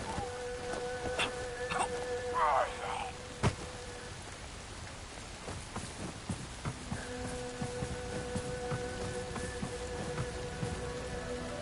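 Steady rain falling in the video game Bright Memory: Infinite, a continuous hiss that holds through the whole stretch, with brief tonal game sounds and a sharp click over it and no voices.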